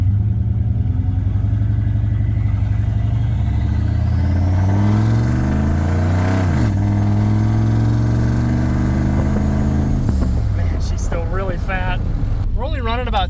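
A turbocharged truck engine with a 3-inch full downpipe roars steadily through a light launch, its pitch climbing and shifting as it accelerates, loud and close, with a whistling rise near the end.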